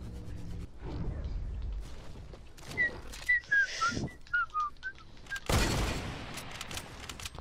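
Gunfire in a Rust video game crackles in short bursts: a muffled shot early on, a sharp blast around the middle and a loud volley later, with a series of short whistled tones in between.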